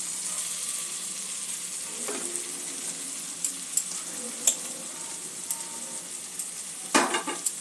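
Masala spices fry in a pan for cauliflower kabab, a soft, steady high sizzle with occasional spoon taps and a louder scrape near the end, close and without voices.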